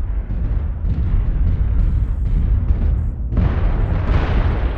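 Incoming missile explosions in the MechWarrior Online video game, a continuous heavy rumbling roar of blasts with a sharper burst partway through, loud and dense.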